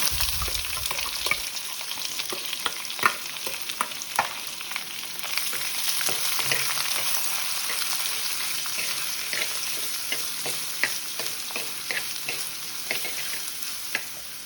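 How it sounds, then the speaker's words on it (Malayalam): Chopped onion sautéing with curry leaves and dried chilli in a hot pan for a squid stir fry, a steady close sizzle and crackle with occasional scrapes of a stirring spoon, no voices. "നന്നായിട്ട് ഇളക്കി ചെറുതായിട്ടൊന്ന് വഴറ്റിയെടുക്കാം ഇതിനെ"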